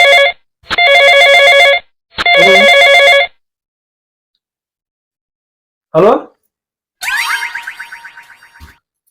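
A telephone rings loudly in two long electronic tone bursts. A short springy boing follows, then a fast, fluttering chime that fades away.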